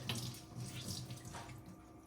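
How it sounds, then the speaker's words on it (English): Water runs steadily from a tap with soft splashing and wet handling sounds as two paper towels are wetted and squeezed out, close and fairly quiet. "get 2 paper towels, make them damp, or get them wet, squeeze out the water"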